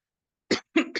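A person gives a short cough, then a double cough, each burst sharp and close against silence.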